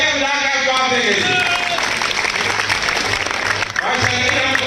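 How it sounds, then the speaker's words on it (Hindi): A crowd at a village fair claps and cheers in a loud, continuous wash, with babbling voices and an announcer's voice mixed through the applause. "आपको मेले का मजा आया जी, तालियां बजाकर जवाब देंगे जी।"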